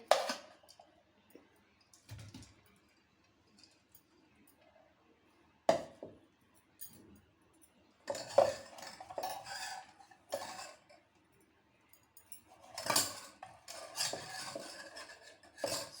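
A spoon scrapes and clinks against a bowl while scooping cooled, set semolina (sooji) into another bowl, producing scattered close-up scraping and clinking bursts separated by quiet pauses, with denser clattering toward the end and no talk.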